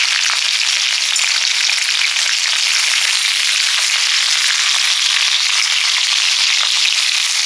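Hilsa fish head frying in hot oil with garlic and green chilli, a steady loud sizzle and crackle running unbroken throughout with no talking.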